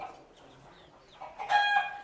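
A chicken in a rural village yard gives a few faint clucks, then a louder, drawn-out call near the end, with no voices.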